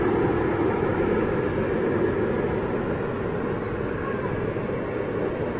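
A Ryanair airliner at around 10,000 feet passes overhead near Manchester Airport, a steady broad distant roar with no clear rise or fall, filling the whole stretch at a constant level.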